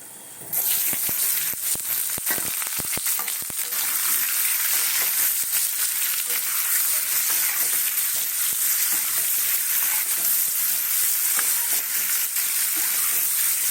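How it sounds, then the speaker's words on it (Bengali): Potatoes sizzle loudly in hot oil in a wok, a steady dense frying hiss that starts abruptly and continues throughout, with scattered sharp crackles near the beginning. "এবারে এই আলুগুলোকে ভাজতে দেব"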